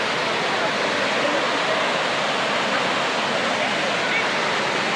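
Sirnapalli waterfall in Nizamabad runs in full flow, a dense, even roar of falling water that holds steady and close without a break.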